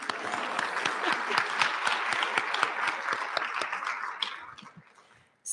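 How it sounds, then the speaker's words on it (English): An audience at an evening community center event applauds: brisk, full clapping from many hands that holds steady, then thins and dies away near the end. "we can applaud for that"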